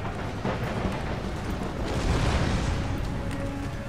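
Artillery fire in Empire Total War comes through as a dense, continuous rumble of distant booms that swells slightly in the middle, heavy in the low end and fairly loud.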